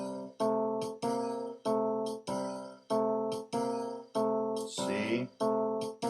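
Twelve-bar blues chords played in a swing beat: evenly spaced, ringing chord stabs in a lilting long-short rhythm, each decaying before the next, with no voice.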